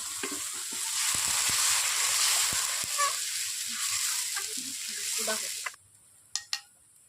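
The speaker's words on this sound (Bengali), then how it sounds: "এরপর মশলার গা থেকে তেল বেরোচ্ছে, আমি এরপর জল দিয়ে দিচ্ছি" Water poured onto spice paste frying in oil for a Bengali potoler dolma curry, bursting into a loud, sustained hissing sizzle that cuts off abruptly, followed by a few sharp clicks.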